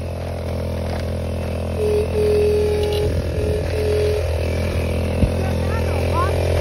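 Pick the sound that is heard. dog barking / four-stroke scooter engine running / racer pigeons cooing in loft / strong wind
four-stroke scooter engine running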